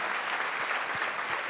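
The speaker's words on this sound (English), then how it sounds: "Trying to steal your applause" A short burst of steady crowd applause at a college sports preview event, dense and even with no talk over it.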